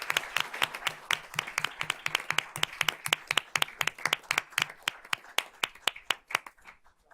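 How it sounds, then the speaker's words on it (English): A round of applause for students being honored at a school board of trustees meeting, with distinct hand claps in a fairly sparse, near rhythm that gradually thins and fades out toward the end. "So let's give these students a round of applause."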